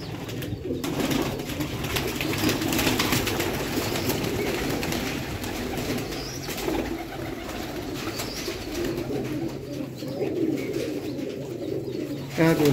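Domestic pigeons of golden, salara and khaki breeds coo in soft, repeated low calls at close range, with brief wing flutters and a busy loft background throughout.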